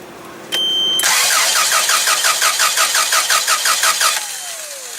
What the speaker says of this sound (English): let's try to crank it again, see if it starts up